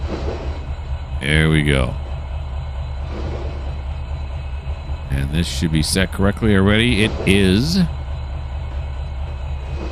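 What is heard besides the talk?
train running in video game Trainz 2022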